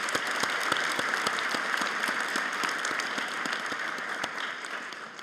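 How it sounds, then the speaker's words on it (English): Sustained audience applause fills a convocation ceremony hall, dense steady clapping from a large crowd, even and continuous throughout with no voices over it. "a big round of applause for our newest Board of Governor, Amy Leong."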